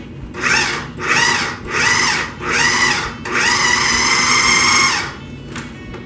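A food processor pulses butter and flour for pie dough: four short whirring bursts in a steady rhythm, then one longer run, loud and close with no talking.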